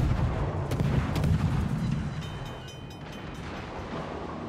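Naval gunfire in World of Warships during a battle with a Kleber destroyer: a dense, continuous rumble of shell salvos and booming reports, heavy and sustained with a few sharper cracks, no voices.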